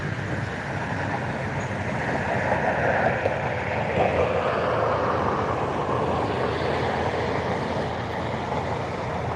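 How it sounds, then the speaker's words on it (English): A large airliner arriving at Cleveland airport roars steadily, a broad continuous jet rumble that holds loud and even throughout with no talk over it. "some planes are coming in from Newark"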